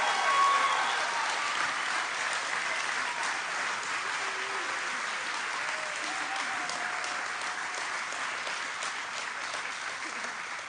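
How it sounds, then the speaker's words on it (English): Audience applause fills a room at a fire and rescue recruit class graduation, a dense, steady wash of many hands clapping that holds for the whole stretch, loud at first and easing slightly toward the end. "let's give one more big round of applause for this graduating class"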